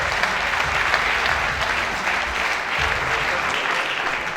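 Steady applause from an audience at a sports awards ceremony, a dense, even wash of clapping sustained for several seconds at moderate loudness.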